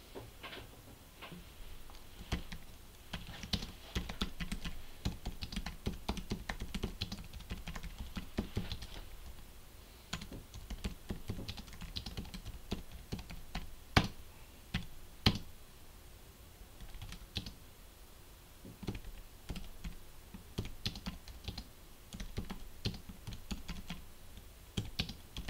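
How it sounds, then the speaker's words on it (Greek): Steady, fairly quiet typing on a computer keyboard, a continuous patter of individual key clicks with brief pauses, entering a title for a new article, with no voices. "πληκτρολογήστε τον τίτλο"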